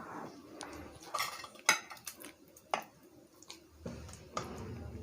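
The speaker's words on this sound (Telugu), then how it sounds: "ఇప్పుడు వీటిని మనం ఇడ్లీ ప్లేట్స్లో వేసేసుకుందాం." Rava idli batter being spooned into metal idli plates, with scattered clinks and taps of a spoon against steel and soft wet plops between them, close and fairly quiet.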